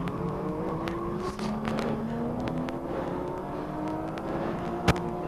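A Speed World Challenge GT race car at Sebring in 2002 powers out of a turn, its engine droning steadily and close up from inside the car as the pitch climbs under acceleration.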